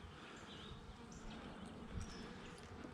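Honey bees hum and buzz around hives outdoors during a hive inspection, a faint continuous drone with no talking.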